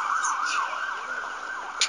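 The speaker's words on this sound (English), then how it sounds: "it's only an ambulance" Wailing ambulance siren in a video game, a steady high tone sweeping across the clip, loud and continuous with no talk over it.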